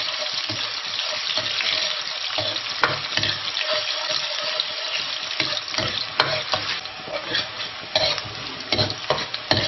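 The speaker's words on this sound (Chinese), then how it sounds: "油烧热之后，倒入蒜片、姜片，" Garlic and ginger slices sizzling in hot oil in a wok, a loud steady frying hiss with occasional sharper spits and stirring scrapes, close and continuous with no talking.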